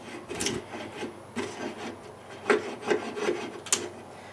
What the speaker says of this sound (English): It just doesn't seem to want to feather stick very well.